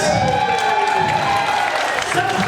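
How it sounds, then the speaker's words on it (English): Audience applause and cheering for volunteers at a 2022 luau at Mt Tahoma; loud, close clapping mixed with whoops and shouts, with voices talking over it throughout. "Round of applause for our volunteers."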